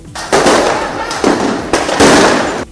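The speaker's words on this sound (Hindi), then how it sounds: "जवाब में पुलिस ने भी आंसू गैस के गोले दागे।" Police firing tear gas shells at protesters, several sharp loud launches and bursts in quick succession outdoors, with voices in the background.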